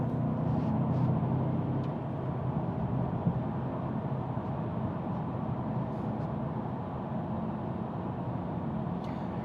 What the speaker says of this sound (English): I can hear the engine a lot more in here than I do in the Beamer, and I can hear that turbo whistle a little bit more